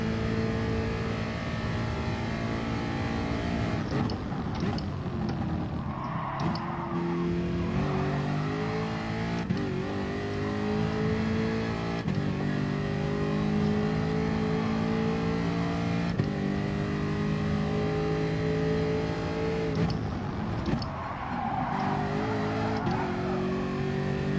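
A race car engine in Gran Turismo Sport, a GR4 car on track, drones and revs steadily throughout, with pitch rising and dropping through gear changes, loud and continuous.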